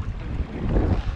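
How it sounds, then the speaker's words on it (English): East wind buffeting a fishing boat off the North Shore of Long Island, a steady low rumbling gust with wind noise on the microphone, close and continuous without talk. "this wind's weird too."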